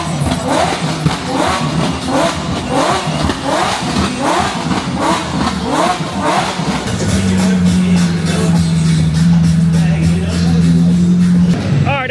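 Several cars at a car meet, an AMG among them, rev their engines up and down in loud repeated bursts that settle into a heavy, sustained engine roar close by.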